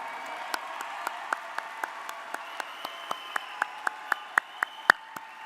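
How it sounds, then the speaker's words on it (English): Sparse, evenly spaced claps ring out at a graduation ceremony, a single clear clap roughly every quarter second over a faint hum, gradually getting a little louder. "let's give them a round of applause"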